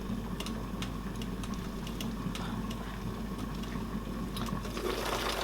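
A blended egusi mixture pours into a cooking pot for Nigerian egusi soup, a faint, wet, steady splashing with small ticking sounds that grows slightly fuller near the end.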